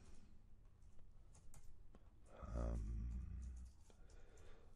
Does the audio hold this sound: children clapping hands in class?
no